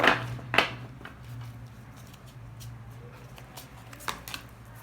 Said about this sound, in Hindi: पहले मैं कार्ड्स अच्छे से शफल कर लेती हूँ।